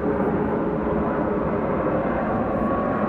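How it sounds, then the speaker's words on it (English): An airplane passing overhead outdoors in a forest, a steady broad rumbling drone holding at even loudness for the whole stretch, no talk. "let's put this plane to pass."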